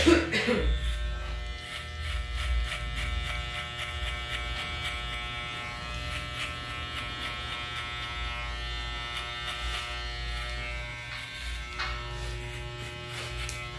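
An electric hair clipper fitted with a number one guard buzzes steadily through hair during a fade cut, a close, even motor hum with small bursts of cutting texture, while someone talks softly over it.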